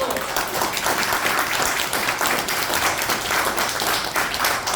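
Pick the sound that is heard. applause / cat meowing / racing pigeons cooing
applause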